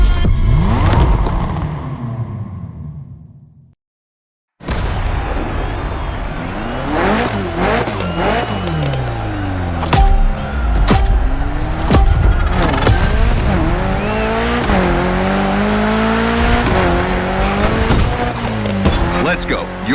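Mitsubishi Evo 9 in The Crew Motorfest gymkhana event revs hard with rising and falling engine sweeps and squealing tires, loud and continuous after a brief silent gap, with voices talking over it.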